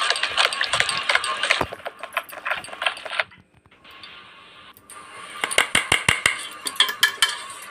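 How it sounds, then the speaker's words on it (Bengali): A spoon stirs and kneads two bowls of flour into dough for kulcha, making repeated scraping and clinking taps against the bowl, close and moderately loud, with a short quieter pause midway. "চামচ দিয়ে এইভাবে ঘুরিয়ে ঘুরিয়ে মেখে নিতে হবে ময়দাতে।"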